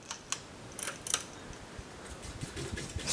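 A 42-inch Heritage ceiling fan coasts down after being switched off, giving a faint, steady whir with scattered light ticks and clicks, close by and alone.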